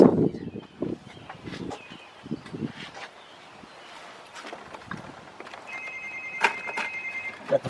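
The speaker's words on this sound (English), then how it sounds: "Got the phone ringing." A telephone rings with a bright electronic trill near the end, in a garage where ignition wires are being replaced on a 2001 Ford Ranger. Earlier there are scattered clicks and handling noises, with faint talk in the background.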